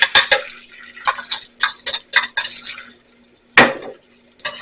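A chopped medium onion is stirred into melted butter in a metal pot, giving close, loud spoon scrapes and clinks in quick bursts, then a pause before one more sharp scrape and a few light taps.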